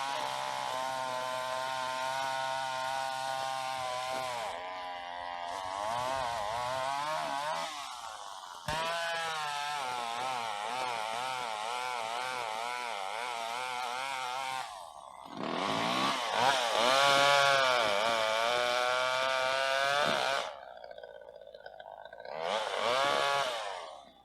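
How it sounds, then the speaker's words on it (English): A chainsaw cuts limbs from a fruit tree during pruning, its engine revving loud and close in long bursts that rise and fall in pitch, with brief drops to idle between cuts. "just what I've done so far is just with the chainsaw."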